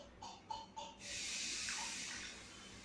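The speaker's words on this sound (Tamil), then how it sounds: "இப்போ அதே கிளாஸ்லேயே அரை கிளாஸ் வந்து தண்ணி ஊற்ற போகிறோம்." Half a glass of water poured from a glass into a pan holding a cup of sugar for laddu syrup, a steady close hissing splash lasting about two seconds after a few soft clinks.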